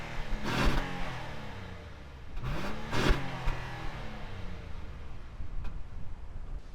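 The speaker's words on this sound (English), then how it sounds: "let's do exhaust test, because this is probably one of the best sounding hybrid sedans you could get on the market." An Acura RLX Sport Hybrid with a J35 V6 revs loudly through its exhaust, rising twice in sharp throttle blips before settling back to a rumbling idle, heard up close.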